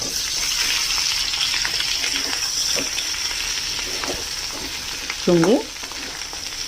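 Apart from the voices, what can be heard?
potatoes frying with green chillies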